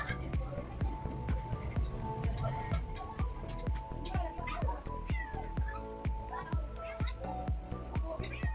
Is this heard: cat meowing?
yes